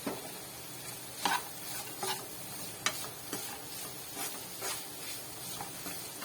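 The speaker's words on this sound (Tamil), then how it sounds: "இப்போ வறுத்து எடுத்து வச்ச முந்திரி திராட்சையை இதில் சேர்த்துக்கலாம்" Roasted cashews and raisins being stirred into aval sweet in a pan, a soft background sizzle with repeated scraping spoon strokes at an uneven rhythm, close but fairly quiet, no talk.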